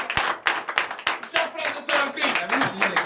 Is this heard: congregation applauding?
yes